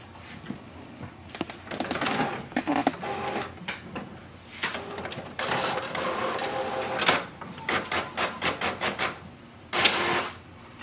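HP OfficeJet Pro 8135e printer prints a page with whirring feed motors, clicks and clunks, and a quick run of rhythmic mechanical pulses near the end, heard up close with no talk.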